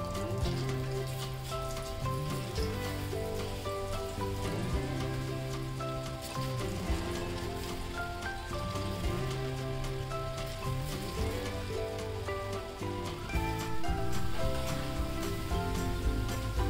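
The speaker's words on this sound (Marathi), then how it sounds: "ही पण भजी व्यवस्थित तळून घेऊया आपण।" Crispy onion pakoda (bhaji) made without soda deep frying in hot oil, a continuous even crackling sizzle throughout, close and steady, with background music playing along and no talk.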